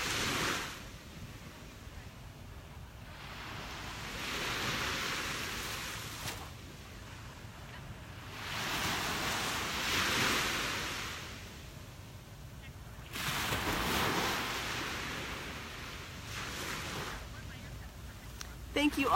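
Ocean waves crash on a beach shore in slow swells, each surge building and fading over several seconds, soft and moderately distant, with light wind.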